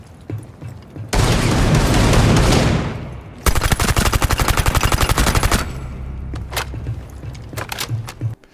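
Rapid automatic fire from a V308 with a drum magazine in the video game Rainbow Six Siege, two long dense bursts of loud gunfire separated by a pause, followed by scattered single shots and footsteps.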